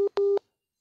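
A telephone line sounds its busy tone after a call drops: short, clipped beeps at one steady pitch, loud and clean, then silence, with no voices.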